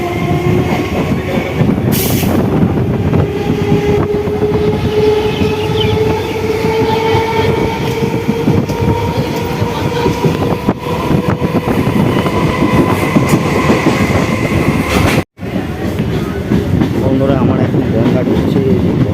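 A passenger train on the Ranaghat to Sealdah line rumbles along loudly from on board, with steady wheel clatter, rising tonal whine and a brief dropout near the end, voices faintly mixed in.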